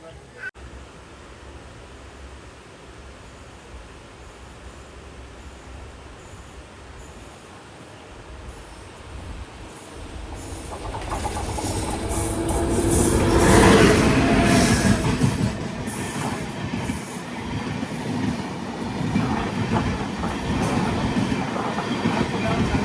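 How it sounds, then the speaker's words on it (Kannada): A Gandhidham–Nagercoil weekly superfast express rushes past on the adjacent track, heard from aboard a train on the Konkan route near Bhatkal. A steady background rumble swells into a loud roar of wheels and passing coaches midway, then stays noisy to the end. "Gandhidham Nagercoil weekly super fast express."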